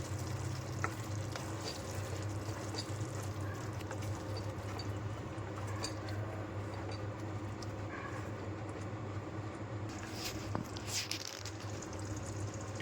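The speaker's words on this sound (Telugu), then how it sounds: "ఫస్ట్లో పేస్ట్ చేసుకున్న జీడిపప్పు, టమాటా, ఉల్లిపాయ పేస్ట్ మనం మూకిల్లోకి వేసుకుంటాం." Cashew, tomato and onion paste frying with mushrooms in a pan for curry, a steady low sizzle with occasional faint stirring clinks, continuous and moderately quiet.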